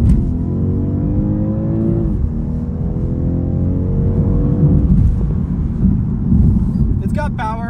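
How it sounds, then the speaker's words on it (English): A 2022 BMW 230i G42 coupe launches from about 20 in Sport Plus, its engine note climbing steadily through two rising sweeps with a brief shift between them, loud and close inside the cabin. "We're gonna do a little bit of a launch from 20 with Sport Plus."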